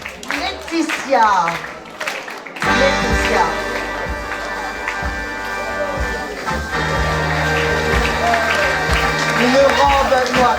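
An audience at a charity fashion show against cancer applauds a model on the runway, sustained clapping that starts abruptly and continues loudly while a host keeps speaking over it.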